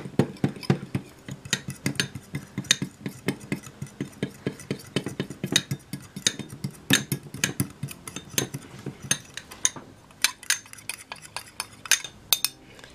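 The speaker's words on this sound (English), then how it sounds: "And you're just going to mix that up." A spoon stirs almond milk and tomato juice into a homemade face mask in a bowl, with rapid continuous clinking and scraping against the bowl, close and steady throughout and no talking.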